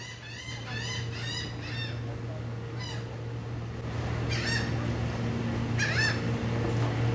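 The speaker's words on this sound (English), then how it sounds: "These seagulls are excited." Seagulls on Liberty Island in New York Harbor give repeated loud, squealing calls in separate bursts, fairly close, over a steady low hum of background noise.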